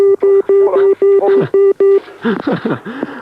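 Payphone pips on a radio phone-in call made from a phone box: a run of loud, evenly spaced electronic beeps, then a person talking over the line.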